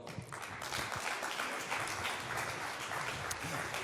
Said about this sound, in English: So, big round of applause for Peter Löffler.